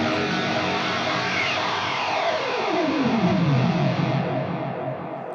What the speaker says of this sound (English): it's just a digital delay that does that